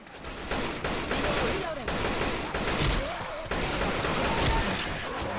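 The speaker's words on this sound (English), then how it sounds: "Oh, the AK?" Rapid AK rifle fire in Left 4 Dead 2, loud repeated automatic bursts separated by short pauses, with the crack of shots and echoing impacts over game ambience.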